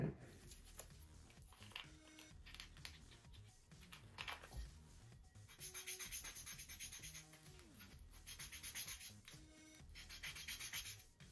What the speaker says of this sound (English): I'm just lightly sanding the edges.